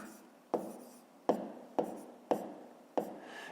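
A pen or pencil writes out a school math problem on paper in five distinct close strokes, each a sharp scratchy onset fading into a soft scrape, evenly spaced with no voice.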